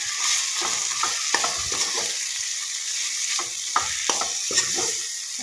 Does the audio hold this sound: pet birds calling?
no